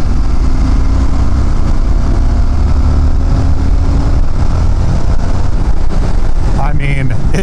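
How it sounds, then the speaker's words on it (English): Indian FTR 1200 S motorcycle pulling hard in sixth gear from 50 mph, a loud steady engine drone with wind roar throughout, rising in pitch near the end. "A six gear pull at 50 miles an hour."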